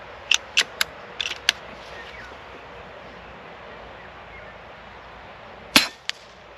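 Several light clicks come first, then after a quiet pause a single sharp, snappy air rifle shot at about 295 metres per second rings out close by, followed by a faint tick.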